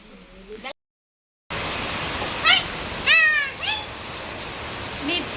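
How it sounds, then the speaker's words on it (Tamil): A heavy downpour hisses steadily and loudly after a brief silent gap, with a cat meowing several times over the rain. "சரியான மழை சம மழை"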